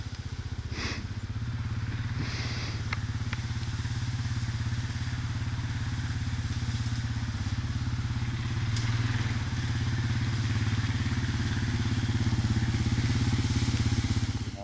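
A Honda ATV engine idles and runs steadily close by during a Pennsylvania rut deer hunt, a continuous low rumbling drone with occasional clicks and clatter and no talk.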